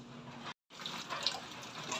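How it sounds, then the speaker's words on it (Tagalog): Tap water runs strongly into a household lavatory sink, a steady splashing hiss that drops out for a moment near the start and then resumes, with a few brighter drips and splashes. "malakas lang daloy ng aming tubig"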